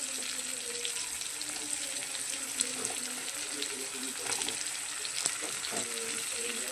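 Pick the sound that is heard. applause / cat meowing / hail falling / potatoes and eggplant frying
potatoes and eggplant frying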